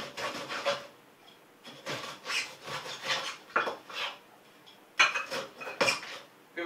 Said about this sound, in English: I'm going to take this mug, I'm going to crush them.